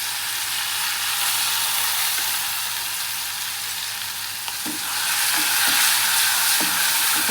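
Crushed green chili thecha fries in oil for spicy brinjal bharit, a loud, continuous sizzle with occasional spoon knocks and scrapes as it is stirred.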